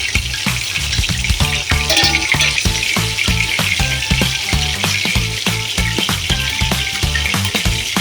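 Chicken deep frying in oil for Kozhikode biryani, loud and close, with a dense crackling sizzle and rapid rhythmic stirring clatter running throughout.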